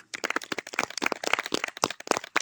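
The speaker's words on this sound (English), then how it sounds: "extra clap for Pete, please" At a musical lecture on the cigar box guitar, the audience claps for Pete in a fairly close, dense burst of individual hand claps that keeps going for the full stretch.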